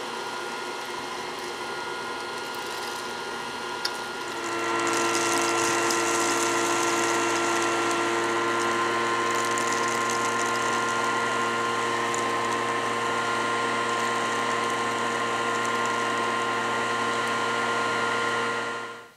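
A Casdon toy Dyson DC22 cylinder vacuum cleaner switches on after a few seconds of quieter hum, then runs at a steady, loud, whining drone with tonal motor hum until it cuts off near the end.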